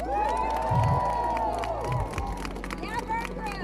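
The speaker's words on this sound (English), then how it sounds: "And also a big round of applause for the blood bags." Players and crew at the close of a vampire-themed live-action role-play game cheer and whoop loudly with some clapping, a lively crowd of raised voices rising and falling together.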